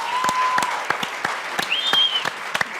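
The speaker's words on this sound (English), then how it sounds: "That's a round of applause." An audience at a live talk gives a round of applause, clapping steadily at moderate volume for a few seconds, with a faint tonal sound drifting above the claps.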